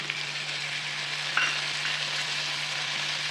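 Tomatoes fry in a pan for an aloo gobi dry fry. A steady, close sizzle holds throughout over a low hum, with one small clink and no talking.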